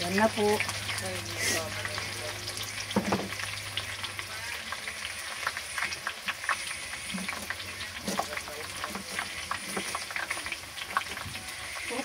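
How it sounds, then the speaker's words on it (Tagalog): Aromatics being sautéed for Filipino shrimp paste, bagoong alamang, a lively close sizzle and crackle in a hot pan with occasional spoon scrapes and stirring, continuous throughout, with someone speaking briefly near the start. "gisa na natin ang ating sangkap"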